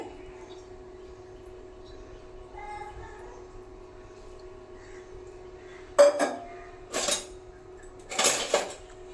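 Semiya coconut sweet being stirred in a pan with two spoons: a few sharp metallic clinks and scrapes in short clusters, with a quiet background hum between them.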